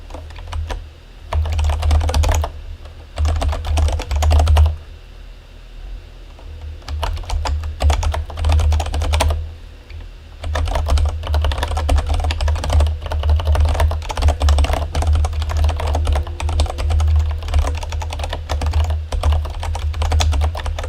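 Bursts of rapid computer keyboard typing during a livestream on CircuitPython library and project development, clattering close to the mic in several runs separated by brief pauses, with a steady low hum underneath.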